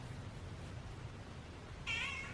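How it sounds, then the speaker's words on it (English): A house cat gives one short, clear meow near the end, alone over quiet room background. "My cat."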